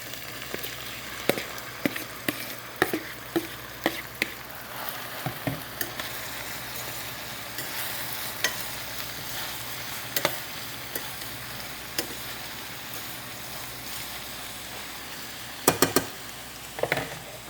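Sliced ridge gourd hits hot oil with garlic, chillies and asafoetida, giving a steady close sizzle broken by sharp ticks and clacks of a spoon stirring the pan, with no voices.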